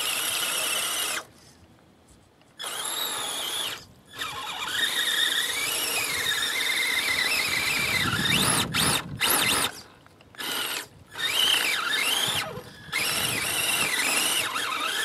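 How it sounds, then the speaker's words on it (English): An Axial SCX10 RC crawler on Predator tracks slips and churns through mud, giving loud continuous high-pitched squealing and whining with short pauses and a rougher grinding burst midway, with no voices. "Oh yeah, you can see the tracks just slipping."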